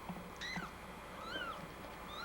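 A small kitten gives several thin, high, rising meows, quiet and close, spaced over a couple of seconds against a soft background.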